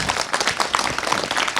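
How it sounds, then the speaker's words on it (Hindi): Brief burst of clapping from a group at a Children's Day faculty celebration, steady and fairly close, with no voices over it. "जोरदार तालियां पहले तो।"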